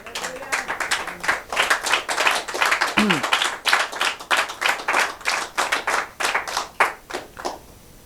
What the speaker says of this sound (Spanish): No sé si puedes darle un aplauso al Señor, hermano.